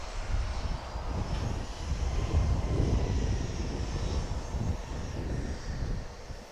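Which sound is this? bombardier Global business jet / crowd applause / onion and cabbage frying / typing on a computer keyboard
bombardier Global business jet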